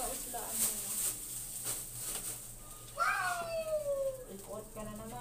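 Cats meowing outdoors near someone grilling food; one clear, drawn-out meow rises above a noisy background, with softer mewing around it and people talking nearby.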